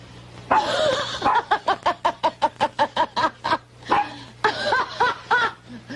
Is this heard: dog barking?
yes